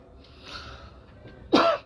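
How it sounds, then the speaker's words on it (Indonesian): A single sharp cough from a tired adult speaker, close and fairly loud, following a faint breathy throat sound moments before, with no talk over it. "agak batuk dikit karena kecapean"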